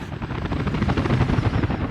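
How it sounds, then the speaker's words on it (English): A helicopter in the city-building game Workers & Resources: Soviet Republic gives a steady, loud rotor chop and engine drone that fills the whole moment, with no voices. "the helicopters are already here on site"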